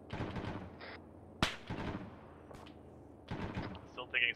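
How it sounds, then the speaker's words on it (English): Sniper gunfire in the military game Arma 3: several sharp single shots and short bursts crack out amid battlefield noise, with squad voices talking throughout. "Still taking sniper fire, though."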